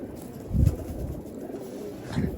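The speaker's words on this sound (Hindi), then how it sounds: "ये चेक करें कबूतर आप, ये देखें, ये चेक करें आप" Pigeons coo in two soft, low bursts a moment apart, close by against a quiet background.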